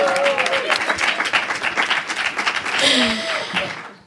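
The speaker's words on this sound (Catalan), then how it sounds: "Un aplaudiment" Podcast studio audience breaks into applause, a dense wash of clapping that swells and fades over a few seconds, with voices and laughter mixed into the clapping.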